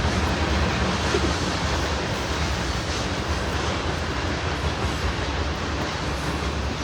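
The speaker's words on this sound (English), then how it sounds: "we're gonna have to endure this train for a minute" A passing train fills the scene with a steady, loud roar of rolling wheels and rushing noise, continuous throughout without voices.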